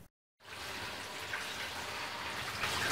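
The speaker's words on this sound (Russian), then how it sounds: "Сейчас я отправлю его в душ." A shower spray switches on after a brief silence and runs as a steady, soft hiss of water over a drooping peace lily houseplant's leaves and soil, with no talking.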